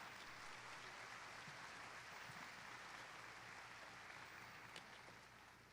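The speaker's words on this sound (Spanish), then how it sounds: "Aplaudamos al Señor." Steady, dense applause from a church congregation during a Sunday morning service, continuous and even throughout, with no speech over it.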